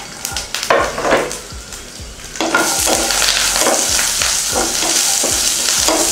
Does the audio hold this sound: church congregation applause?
no